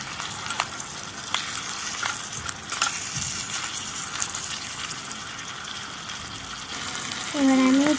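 Rice and lentils are stirred with fried vegetables for khichuri in a small pan in a mini kitchen. A steady, close sizzle runs with scraping stirs, and a voice is heard briefly near the end.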